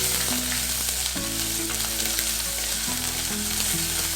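Ginger garlic paste sizzles steadily in hot oil with browned fenugreek seeds for a fish curry, a close, continuous frying hiss with faint stirring and low background tones, no voices.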